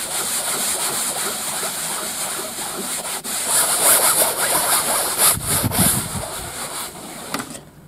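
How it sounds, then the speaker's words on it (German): A sponge rubs shaving foam into car seat upholstery, giving a close, scratchy, rhythmic scrubbing that grows busier and louder toward the end. "Und dann reibt ihr das Ganze mit einem Schwamm gut ein."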